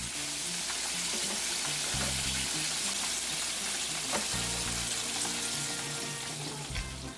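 Chicken wings coated in eleven herbs and spices fry in hot oil, giving a steady, dense crackling sizzle that runs close and loud throughout, with a low tonal hum in the background.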